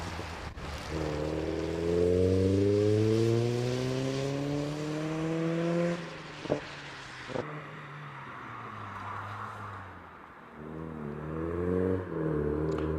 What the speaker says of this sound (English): No dramas, the MX-5, as Oliver heads along the top towards the S's.